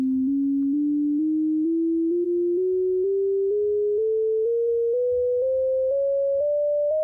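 An Arturia Pigments synth LFO, quantized to a twelve-tone scale, steps a pure sine-like tone upward through about fifteen evenly spaced pitches, each held roughly half a second, loud and alone over a faint low rumble.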